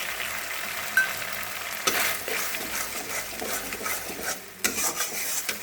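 Cashew and poppy seed paste frying in hot oil with spices, a steady sizzle broken by scraping stirs against the pan and occasional clinks of a utensil, close and loud with no voices.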